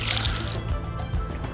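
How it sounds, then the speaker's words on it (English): Water is tipped into a bag's worth of pellety betaine green groundbait mix for cage feeder bream fishing, a splashing pour and slosh with some drips, close and fairly loud. "tip some water in"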